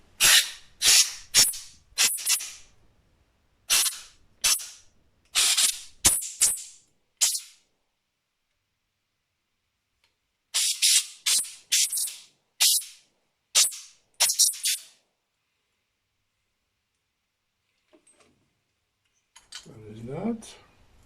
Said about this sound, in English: I'm going to blow out the screw holes with compressed air so that is clean.